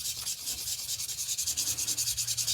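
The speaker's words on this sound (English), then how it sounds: "So what you do is you just keep polishing it." Steady back-and-forth rubbing of jasper stone polished by hand, a rhythmic hissing scrape repeating roughly every tenth of a second, close and continuous with no talk.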